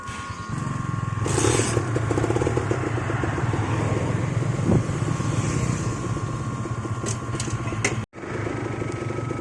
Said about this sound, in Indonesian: bisa kalian dengar dia ada suara apa, bunyi tek tek tek tek tek dalam mesin